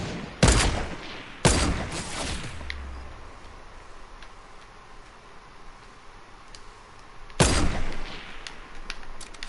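Three loud, sharp sniper rifle shots ring out in a Fortnite match, spaced seconds apart with the third after a long pause, each followed by a brief ringing tail over quiet ambient background.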